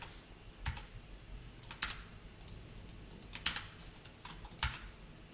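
A computer keyboard's F5 key is pressed repeatedly, heard as faint, sharp clicks spaced irregularly in a quiet room.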